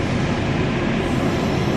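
A KRL electric commuter train at Jatinegara station produces a steady, loud, continuous rumble with no breaks or talking.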